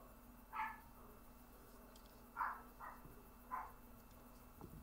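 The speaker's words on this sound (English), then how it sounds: "didn't I mention that today was the dog barking contest of the neighborhood?" Neighborhood dogs bark a few times at a distance, short separated yaps spaced a second or two apart over a low steady background hum.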